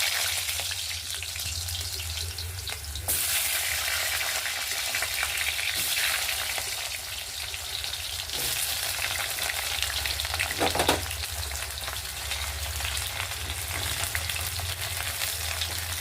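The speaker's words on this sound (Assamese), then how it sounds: "প্ৰথমে আলু কেইপিচ ফ্ৰাই কৰি লওঁ।" Potato pieces fry in hot oil with a dense, even sizzle. A few sharper surges come as pieces are stirred or moved, and no voices are heard.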